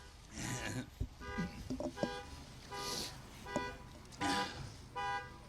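A car alarm sounds close by in repeating tonal toots and whoops, with people talking over it.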